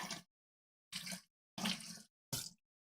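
Vegetables rinsed under a running kitchen tap, in four short separate splashes of water broken by silence, fairly faint and close.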